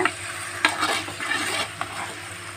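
Brinjal, onion, tomato and ginger garlic paste sautéing in a pan for fish curry, a steady sizzle broken by several sharp scraping stirs of the spoon, close and fairly loud, with no voices.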